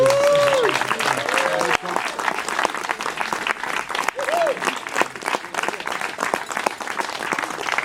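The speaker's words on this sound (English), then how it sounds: "so a round of applause for Todd." Crowd at a football club's end-of-season awards ceremony applauds a young first-team player, dense clapping throughout that is loud and close, with whoops and brief voices rising over it.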